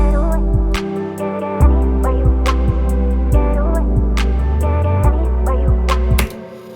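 A full R&B beat made in FL Studio plays alone: deep sliding bass hits, crisp hi-hats and snappy drums under smooth sustained chords, steady and loud.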